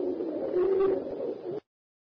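A pigeon coos in a single low, soft, rolling call lasting about a second and a half, close and clear, with no other sounds around it.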